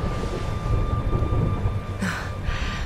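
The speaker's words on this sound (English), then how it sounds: "Would you look at it thundering away out there?" Thunder rolls as a steady low rumble in a Dragon Quest XI game scene, a continuous distant storm with a slightly brighter swell near the end.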